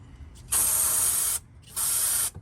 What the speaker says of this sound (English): Serge is gonna try to spray down some brake cleaner